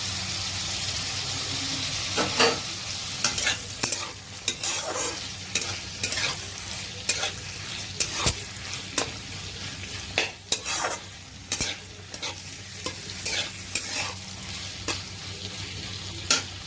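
Tomatoes fry and sizzle in a pan for chuda upma while a spoon stirs and scrapes against the metal in irregular clicks. The sizzle runs steadily underneath at moderate volume.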